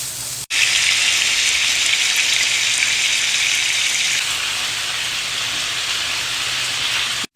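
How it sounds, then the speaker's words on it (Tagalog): Butter browns in a pan with white onion, sizzling in a loud, continuous frying hiss that starts suddenly, holds steady for several seconds, eases slightly, then stops abruptly. "Ayan, nagbabrown na tayo ng butter."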